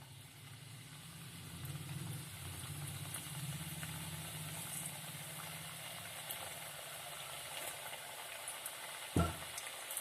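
A batch of Christmas sweet snacks fries in hot oil with a soft, continuous sizzling bubble, fairly quiet and steady throughout, with one brief knock near the end.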